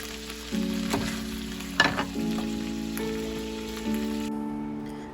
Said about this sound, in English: This is roughly about a pound of turkey that I just tossed into the pan with the chorizo, and I'm just gonna cook this together now